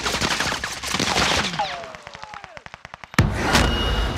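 Gunfire in a multiplayer shooter video game, a rapid automatic burst of evenly spaced sharp shots followed by a loud single blast, with game sounds and brief voices around it.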